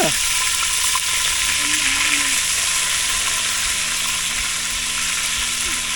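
Food frying in a pan makes a loud, continuous sizzle with steady hiss and occasional stirring, plus a faint tonal squeak and a low background hum throughout.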